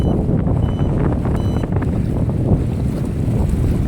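Strong wind buffets the microphone as a carp-fishing boat crosses choppy waves on the Tobol River in Kostanay, the roar constant and loud with water sloshing underneath.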